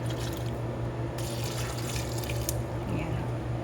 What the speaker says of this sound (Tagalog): maglagay po tayo ng tubig